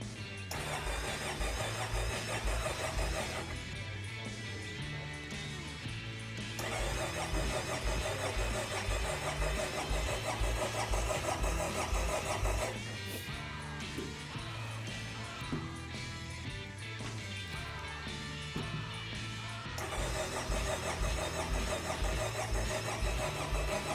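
A 1990 Honda GB500 motorcycle engine coughs into life on a cold start and settles into a throbbing idle, its rhythmic pulse steady and close, with faint voices in the background.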